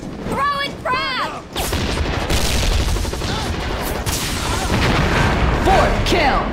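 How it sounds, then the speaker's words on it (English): Booming explosions and rapid gunfire from a ZMR deathmatch video game fill the mix after a frag grenade is thrown, loud and continuous, with a voice calling out briefly at the start and again near the end. "Throwing frag!"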